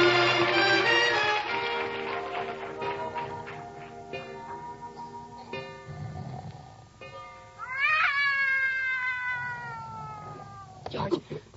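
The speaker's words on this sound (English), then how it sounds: "Did you wake me up so I could listen to that cat concert?" A cat meows and caterwauls in a radio drama, giving a run of drawn-out wailing yowls that rise and fall. Some cries are long and sliding and others short, close and clear, with a faint ticking in the background.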